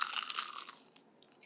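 Someone bites into crispy golden fried food, giving one close, sharp crunch that fades into softer chewing crackles; no talking.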